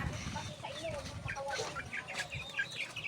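Pet chickens cluck softly at a backyard feeding, with a few short clucks scattered over a low outdoor background and no clear talking.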